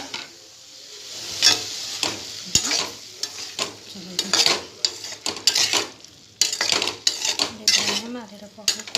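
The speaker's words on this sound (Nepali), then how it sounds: "अब हामीले चाहिँ खासै तेल हाल्नु चाहिँ यसरी भुटेर मजाले तेल रिलिज गर्छौँ" Masala being fried and stirred without oil for aloo dum, a spoon scraping and clattering against the pan in irregular bursts over a soft, steady sizzle, close and fairly loud.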